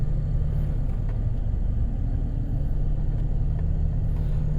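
A tractor's engine idles after being started, a steady low rumble with a constant hum, close and loud throughout, with no talking.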